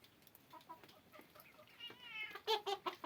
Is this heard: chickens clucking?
yes